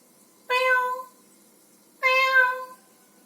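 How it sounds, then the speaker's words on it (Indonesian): A pet cat named Molly meows loudly twice in close succession, each call about half a second long and clear against a quiet background, with no talking. "Molly mengeong berulang kali, suaranya begitu keras"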